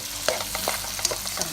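Tomatoes go into a pan of sautéing onion and garlic for pork picadillo, giving a soft steady sizzle broken by quick scraping stirs of a spoon, close and fairly quiet, no talking.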